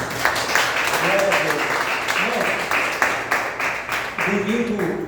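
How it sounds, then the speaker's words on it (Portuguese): A congregation applauding during a church service, a crowd of hands clapping steadily, with voices calling out and singing over the clapping throughout. "Aplauda ao Senhor."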